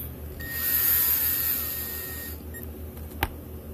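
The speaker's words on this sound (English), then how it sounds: "run these in with a drill, and I will stop before I tighten them" Power drill driving small screws into axle gears on a Treal overdrive set for an Axial SCX24 RC crawler, a short whining run of about two seconds with a high motor tone, then quiet and a single sharp tick.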